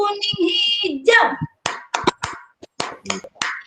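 A group of adults plays a rhythmic clapping game, with sharp claps in quick bursts following a leader's chanted calls and group responses in Indonesian.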